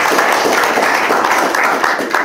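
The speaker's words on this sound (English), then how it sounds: "We're not averse to the occasional round of applause." An audience applauds in a museum room during a climate tour event, a steady, dense wash of many hands clapping close by at full volume throughout.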